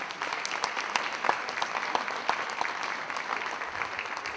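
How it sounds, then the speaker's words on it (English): Sustained applause fills an awards ceremony hall, a dense steady clatter of many hands clapping from a seated audience, with no speech over it. "some more applause for one of our biggest supporters of CTE"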